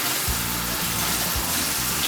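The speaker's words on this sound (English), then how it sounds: "I'm now going to rinse the cauliflower." Running tap water pours steadily over cauliflower being rinsed in a home kitchen sink, a continuous close gushing splash with slight surges, heard alone without talk.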